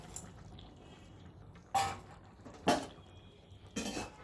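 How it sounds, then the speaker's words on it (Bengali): Fried paneer pieces dropped into a pan of simmering curry, three short separate plops and clatters over a quiet kitchen background. "এই দেখুন দিয়ে দিচ্ছি ভেজে রাখা পনির"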